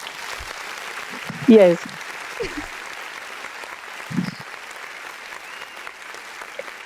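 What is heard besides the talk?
clapping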